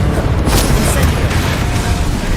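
Fire spell blasts cast in the Hogwarts Legacy video game, giving a loud, dense booming roar with bright crackling bursts that fills the whole clip.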